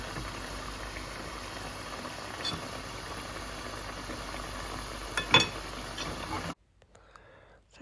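Fish curry bubbles steadily in a pot, a continuous boiling hiss with a few small pops, which cuts off abruptly near the end.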